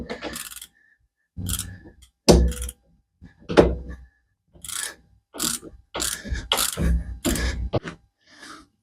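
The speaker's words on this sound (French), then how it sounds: "On bloque le compte écrou avec une clé plate. Hop, et on desserre." A flat wrench holds the counter-nut while a nut is loosened during a handbrake cable replacement on a Citroën C3, giving a series of close mechanical thunks and ratcheting clicks in irregular bursts.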